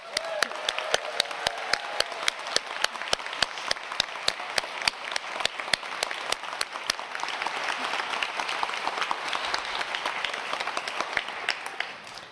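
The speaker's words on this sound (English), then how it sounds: "These are COVID grads, so let's give them a round of applause" A graduation audience applauding the COVID-era medical graduates: many hands clapping in a steady, continuous wash, with a few sharp, prominent claps standing out near the front, lasting the whole stretch.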